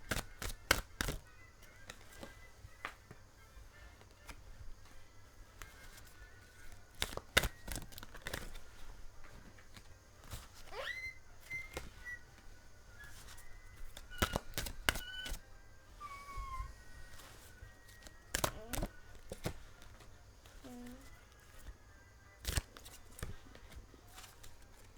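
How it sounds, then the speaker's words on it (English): Lucy Cavendish oracle cards being shuffled in a quiet room: repeated sharp riffles and taps spread across the stretch, mostly faint, with no speech, and a cat meowing now and then in the background. "I'm going to shuffle, so I'm going to put the mic down"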